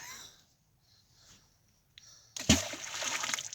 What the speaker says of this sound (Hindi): दरिया का पानी अपने हिसाब से जा रहा है।